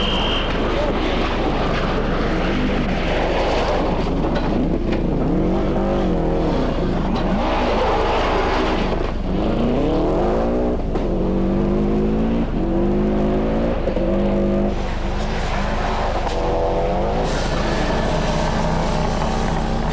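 A rally car's engine at the 1991 RAC Rally revs and roars loudly throughout, rising and falling through gear changes as the car drives on, with a voice talking over the continuous engine noise.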